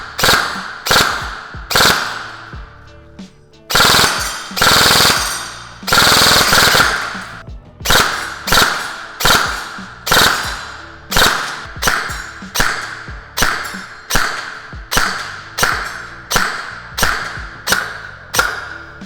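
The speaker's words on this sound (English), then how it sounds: "get them to actually go down with some full auto fire" A G&G MXC9 airsoft gun fires full-auto bursts, loud and close: several short rapid strings, then a longer sustained burst, followed by a steady series of evenly spaced quick bursts, with no talking.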